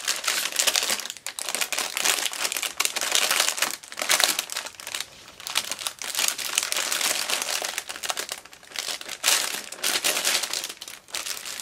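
Loud, continuous crinkling and rustling of a plastic bag being handled and opened, with bursts of crackle that go on steadily, close to the microphone.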